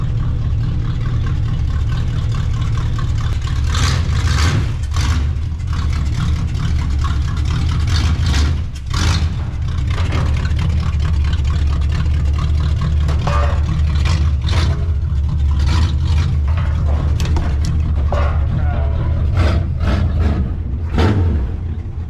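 A 1982 Chevrolet Camaro Z28 V8 runs loud and close, its steady rumble rising and falling with revs as the car pulls away.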